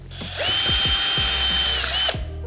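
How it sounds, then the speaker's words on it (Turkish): A power drill whirs loudly and steadily for about two seconds as it bores a hole into a dry tree branch, spinning up and then stopping, with short bursts at the start. "Sonra matkapla yavaş yavaş. Ona güzel bir delik açalım."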